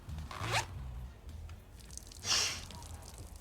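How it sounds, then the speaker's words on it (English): A clothing zipper is pulled open in two quick, close-up zips about two seconds apart, with no talking in between. "explain to me how I opened my zipper"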